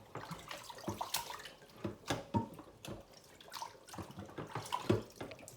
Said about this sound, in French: Et nettoyez toujours vos viandes avec du vinaigre, le poisson, la viande.